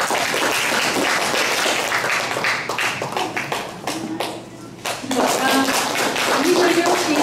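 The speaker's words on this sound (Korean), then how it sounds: "크게 박수 한번 보내주세요." An audience at a matinee concert claps as a poet comes on stage, a steady round of applause that dips briefly midway before swelling again, with a voice speaking over part of it.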